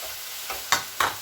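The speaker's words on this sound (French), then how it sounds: "je mets 2 bonnes grosses cuillères de yaourt grec" Greek yogurt is spooned into a bowl: a few short, close scrapes and soft clacks of a spoon, the last two sharper, with no talking.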